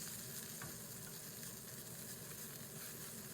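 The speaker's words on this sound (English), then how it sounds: "we'll just keep sauteing them." Thyme and garlic sauteing in a pan alongside a beef fillet give a steady, close sizzle and spit of frying that runs unbroken throughout, with no talk over it.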